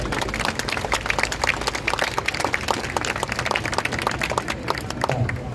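Crowd at a Daegu rally applauds to welcome a speaker from Incheon, a dense, steady patter of many hands clapping throughout with a few shouts mixed in.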